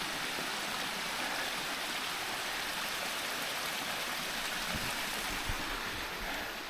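A brook runs through woods with a steady, broad rushing wash of water, close and constant throughout, with a few faint knocks underneath and no voices.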